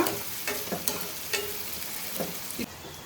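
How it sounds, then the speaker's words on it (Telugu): Onions sizzle softly in a pan for an Andhra-style chicken pulao curry, with several scraping stirs of a spoon cutting through the steady, fairly quiet frying. "ఉల్లిపాయలు ఎర్రగా వేగితేనే బాగుండిద్ది"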